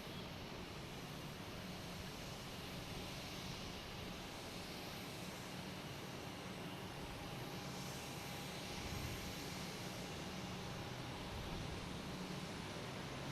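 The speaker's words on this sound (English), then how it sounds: "so these planes are taking off much easier. There we go. Lufthansa and a cruise ship." Lufthansa airliner taking off at Boston Logan Airport, heard as a distant, steady broadband jet roar that stays faint and even throughout, with no talking.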